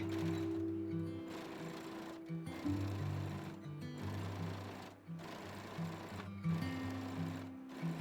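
A sewing machine stitches elastic onto the waist seam allowance of a halter babydoll dress: a steady close mechanical whirring hum in several runs, with brief pauses between bursts and no voices.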